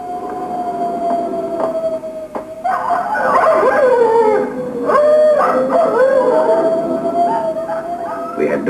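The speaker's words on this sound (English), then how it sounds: "We had dogs, and they must be fed." Sled dogs at an Antarctic expedition hut howl together in long rising and wavering cries, several voices overlapping, loud and fairly close, with brief yips between.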